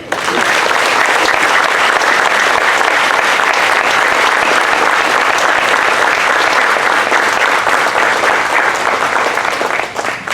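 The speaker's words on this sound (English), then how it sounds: "a big round of applause to a job well done" A loud, sustained round of applause from a crowd at the Greater New Orleans QB Club year-end awards, dense clapping holding steady for about ten seconds before tapering slightly.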